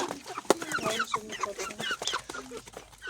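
Chickens cluck in an outdoor run, giving several short, close calls in a loose, irregular rhythm over quiet background.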